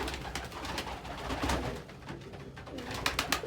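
Pet pigeons or doves coo softly and repeatedly during a morning breakfast with the birds, with a busy, steady flutter of other bird sounds in the background.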